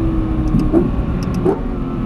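A Lexus LFA accelerates on the Silverstone circuit during a track day, its engine a steady close drone with faint rising tonal sweeps and no voices.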